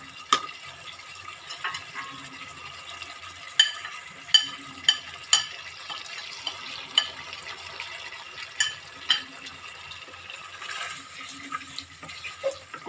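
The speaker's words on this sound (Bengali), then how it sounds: "কষানোর মধ্যে একটু জল দিতে হবে, একটু মশলাটা ভালোভাবে যাতে আলুর ভিতরে ঢোকে, তার জন্য একটু জল দেব" A spiced potato curry (aloo dum) bubbles and simmers softly after water is added to the frying masala, with a low wet hiss broken by a series of light, regular knocks from stirring.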